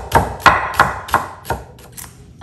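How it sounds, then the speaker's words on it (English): A knife chops dill on a cutting board in a quick series of sharp, close thuds, about six strokes that grow softer toward the end. "I'm gonna chop some dill."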